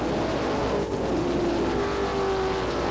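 Stock race cars run at the Beech Ridge or Oxford speedway in 1989, a continuous loud engine drone with a rising and falling whine as cars pass along the backstretch, no voices.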